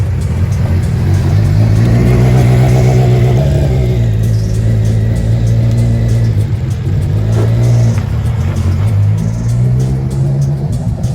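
A loud race car engine revs continuously nearby during testing, its pitch rising and falling steadily throughout.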